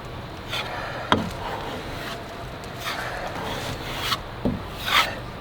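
Filler compound is spread and scraped like spackling, giving soft repeated rubbing and scraping strokes with a few sharper knocks of the tool.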